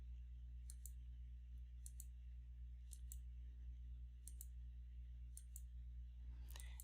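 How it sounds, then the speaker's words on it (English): Computer mouse buttons give several crisp, quiet single clicks at irregular intervals, set over a steady low electrical hum with no speech. "And just with a click of a button"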